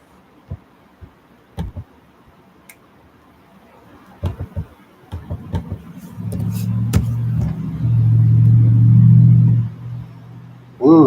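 Trucks passing overhead, heard from underneath: scattered faint clicks and knocks at first, then a deep, steady rumble swells in and lingers for several seconds before easing off, with a brief burst at the very end.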